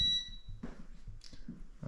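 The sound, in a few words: electronic beeping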